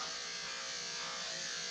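Steady, close electric buzz of clippers with a number 10 blade trimming a Labradoodle's fur, running continuously at an even pitch, with no pauses or talking.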